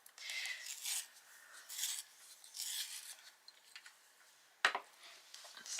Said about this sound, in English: I'm going to have to give it a good sharpen